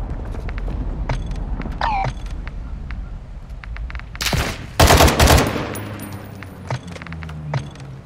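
Gunfire in a military shooter video game, scattered shots building to a loud burst of rapid automatic fire and a heavy blast midway, with battle clatter around it.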